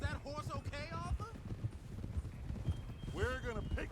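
Horse hooves clip-clop at a steady walking rhythm under continuous character dialogue in the Red Dead Redemption 2 game.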